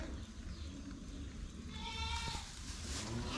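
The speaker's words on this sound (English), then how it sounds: "And also in this shed is my lovely goats." Weaned goats bleat inside a farm shed, a few calls rising over a low ambient hum with faint background noise.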